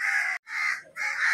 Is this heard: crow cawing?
yes